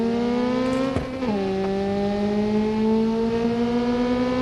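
A car engine in BeamNG.drive, a 2023 Nissan 240SX, holds a steady rev, briefly cuts off and shifts with a sharp click, then settles back into a constant mid-pitched drone, close and alone.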